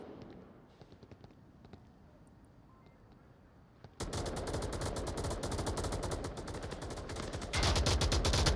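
Rapid gunfire in the VR shooter game Onward during a competitive match, quiet scattered shots at first, then sustained loud bursts of automatic fire that grow even heavier near the end.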